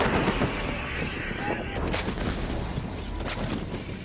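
Heavy army artillery rounds thunder repeatedly during a military exercise near the border in Tawang, Arunachal Pradesh, booming blasts layered over a rumbling, crackling wash of noise at a moderate distance.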